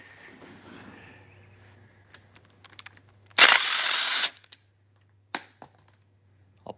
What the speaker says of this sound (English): Remove these oil pan bolts.